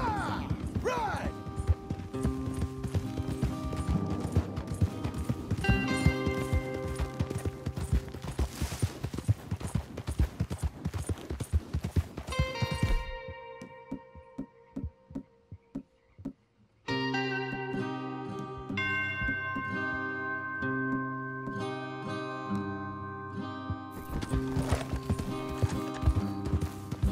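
Horses gallop in Red Dead Redemption 2, steady hoofbeats clip-clopping under loud game music and effects, dropping away briefly mid-ride before the riding and score pick up again.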